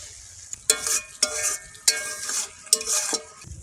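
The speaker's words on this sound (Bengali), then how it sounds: "একটু জিরে মরিচের গুঁড়ো দেবো নাড়াচাড়া করে" A utensil stirs cumin and chili powder in a frying pan. Four or five sharp scraping strokes sound close by over a faint sizzle, and no voices are heard.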